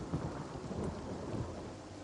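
Heavy rain and rolling thunder from the video game Divinity: Original Sin, a dense, steady roar of downpour with low rumbling throughout, loud and continuous with no talk.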